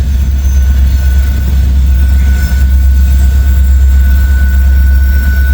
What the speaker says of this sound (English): We got a Norfolk Southern train